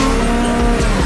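A Subaru race car slides sideways through corners at the Goodwood Festival of Speed 2022, its tires squealing loudly and continuously over a close, roaring engine, with no voices.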